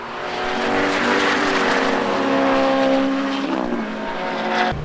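GT Cup race cars at Donington Park sweep through McLean's corner, engines rising to a loud sustained roar as they pass close by, then a downshift and fading drone before another car arrives.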